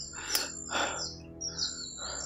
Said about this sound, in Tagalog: Uwak.